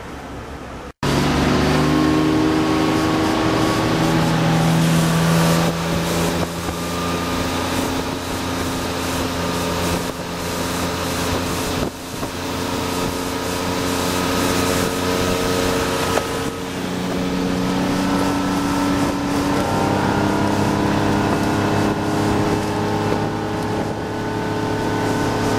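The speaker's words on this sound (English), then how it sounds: "let's go take this boat for a ride and we'll see how it runs." The engine of a 2007 Monterey 214 FSC motorboat drones steadily and loudly on the water, its pitch rising and falling slightly as it runs, with no talking.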